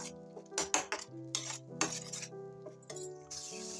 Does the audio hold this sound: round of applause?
no